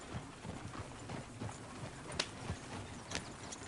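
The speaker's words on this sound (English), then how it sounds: "Oh, shit, the horses! Damn horses!" Hooves clip-clop in a quick, steady rhythm as horses move in a video game, faint and close with no talk over them.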